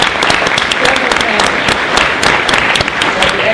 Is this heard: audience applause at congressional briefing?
yes